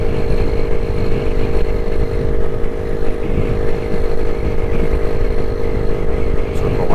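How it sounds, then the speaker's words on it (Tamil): A vintage Jawa motorcycle engine thumps steadily while riding, a dense, loud, continuous low beat with road and wind noise, heard up close without any obvious break. "நல்ல பீட்டு நல்லா தெளிவாக கேட்குது"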